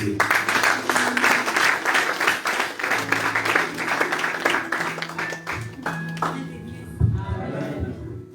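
A church congregation at a worship service in France applauds and acclaims Jesus, producing steady, dense clapping and cheering that fills the room for several seconds over a sustained musical tone.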